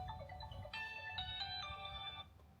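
Phone ringing with an incoming call from a school principal: a bright electronic ringtone melody plays clearly and steadily over a low background hum, then cuts off abruptly.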